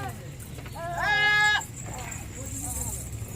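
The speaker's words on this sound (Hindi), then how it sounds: "इसके अलावा ये बकरा मैं आपको दिखा रहा था" A male goat at a livestock pen gives one loud, wavering bleat of about half a second, close to the microphone. Someone speaks before and after it.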